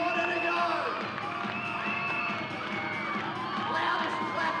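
Crowd at a WNBL women's basketball game between Perth Lynx and Adelaide Lightning cheering and shouting steadily through a final-quarter break, a dense, loud roar with whoops and children's voices, clapping not clearly separable.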